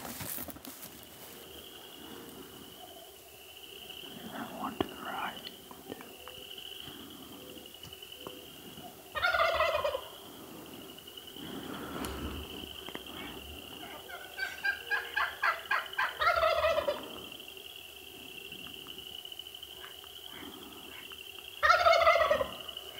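Merriam's wild turkeys gobble from the roost before daylight, several rattling gobbles at a moderate distance, some overlapping, over a steady insect or bird drone in quiet pre-dawn woods with no talking.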